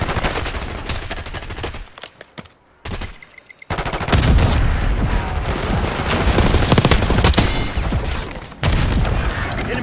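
Assault rifle fire in the video game Black Ops 6, loud rapid bursts and heavy impacts in dense fusillades, a brief lull near the middle, then sustained firing to the end.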